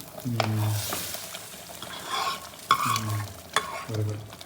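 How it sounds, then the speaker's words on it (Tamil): Drumstick leaf dal stirred and frying in a hot pan, with several bursts of loud sizzling and scraping stir strokes, each sizzle dying down between stirs. "இந்த பருப்பை விட்டோடனே அதில் தொயின்னு பொரிஞ்ச வாசனை பொரிஞ்ச சவுண்டு வரணும்"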